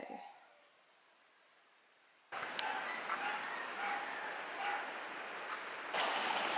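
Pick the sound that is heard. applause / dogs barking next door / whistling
dogs barking next door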